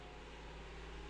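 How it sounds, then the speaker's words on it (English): A constant, loud mechanical drone with a low rumbling hum from a washing machine spinning towels at speed, steady throughout with no talk. "that is my washing machine about to take off"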